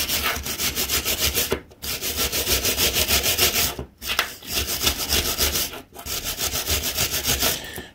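Scrubbing mud off Suzuki Kingquad ATV front brake pads, a loud rhythmic rasping rub in fast back-and-forth strokes, broken by three short pauses, with no talk.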